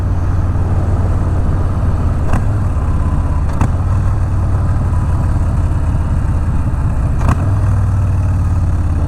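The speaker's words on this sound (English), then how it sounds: "Nice, that throttle blips pretty well." A Harley Davidson Street Bob 107 motorcycle engine rumbles loud and close at a steady low idle, broken by a few brief sharp throttle blips spaced several seconds apart.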